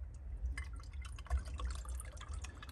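G12 coolant trickles and drips into the coolant reservoir header tank of an Audi A5 1.8 TFSI, giving soft irregular splashes and gurgles with a few louder bursts, faint and close with no talking.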